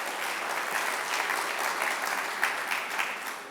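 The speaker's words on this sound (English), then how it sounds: "I would like to have an applause for the Gaziantep municipality" A large audience at a municipal forum closing ceremony claps steadily and evenly, a dense wash of applause that holds throughout at moderate distance.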